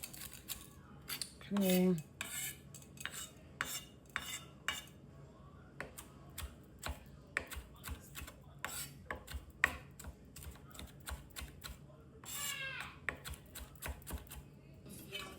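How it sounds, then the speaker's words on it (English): Knife chopping fresh cilantro on a cutting board in a home kitchen, a rapid run of crisp, close taps with short pauses, and a brief spoken word near the start. "so our cilantro is all chopped up"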